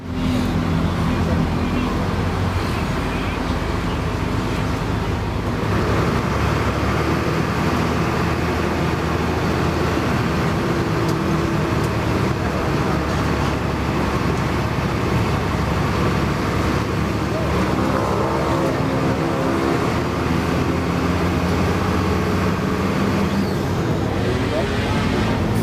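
An aging bus, a Shahira Abdi 03, running along an Indonesian road, steady engine drone and road rumble from inside the cabin, continuous for the whole stretch, with people talking over it.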